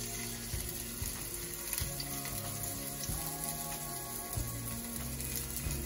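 Garlic frying in oil in a pan over medium heat, a steady close sizzle and crackle with a continuous watery hiss and faint background music, no talking.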